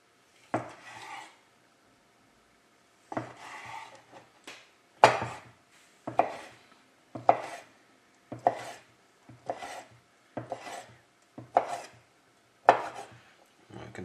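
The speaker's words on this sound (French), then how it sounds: "On va récupérer le citron, donc le citron confit. On va le couper en petits cubes." A knife cuts preserved lemon into small cubes on a board, giving about a dozen close, crisp chops in uneven groups separated by short pauses, with no talking.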